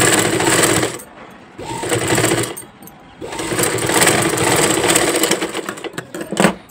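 Stitching along piping, a sewing machine runs in bursts with a fast rattling hum, stopping briefly twice between runs, loud and close with no talking.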